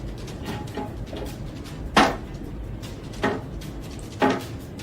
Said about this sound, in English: Drawers are opening on their own, the faucet turns on